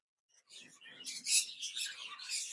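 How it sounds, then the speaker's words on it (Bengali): Golden cinnamon pet birds chirp and twitter continuously in an aviary, a busy overlapping chorus of high, bright calls close by with no talk. "এইগুলো হচ্ছে গোল্ডেন চিনামন ঝর্ণাপাল"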